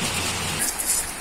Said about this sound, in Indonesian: Hujan euy. Hujan sedikit.